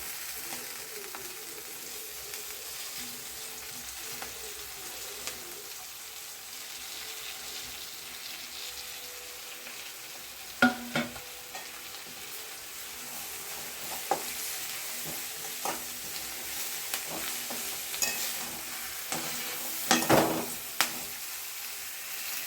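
Moringa leaves sizzling softly in a pan for an egg stir-fry, with quiet steady frying and occasional louder scrapes and clinks of stirring, close and fairly faint, no talking.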